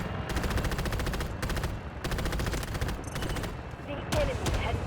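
A 7.62 machine gun fired in the Delta Force video game, several rapid bursts of automatic fire separated by short pauses, loud and close, with a faint voice underneath.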